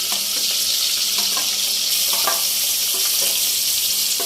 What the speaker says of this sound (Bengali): তরুলি ভাজা হচ্ছে